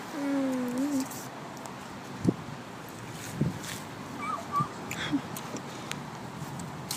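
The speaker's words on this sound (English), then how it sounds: "Doggy." A dog whimpers in a few high, wavering whines near the start, followed by scattered faint yips and small noises over a quiet background.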